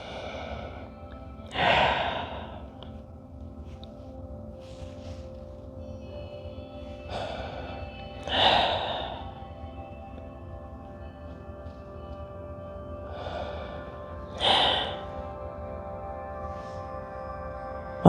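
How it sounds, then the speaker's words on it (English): Slow deep breaths during somatic yoga, three long audible exhales spaced about six seconds apart, each rising to a soft sighing rush, close to the microphone in a quiet room. "Few more breaths."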